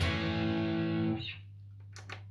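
A gritty electric guitar chord through a Valeton GP-200 distortion effect sustains for about a second, then cuts off, leaving a low amp hum and faint string noise.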